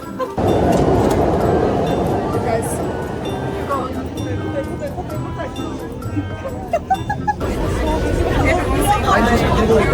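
A metro train roars along loudly while a dense crowd of BTS concertgoers chatters and shouts around it, voices mixing into a constant babble.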